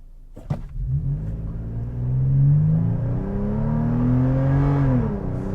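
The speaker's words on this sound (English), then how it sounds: "Still a little bit of a raspy sound from that V6." A 2022 Toyota 4Runner TRD Pro with a V6 is floored from a standstill toward 60 mph, its engine climbing in a loud, raspy drone that rises, swells and shifts pitch as it accelerates.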